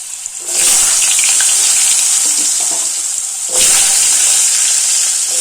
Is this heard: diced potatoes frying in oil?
yes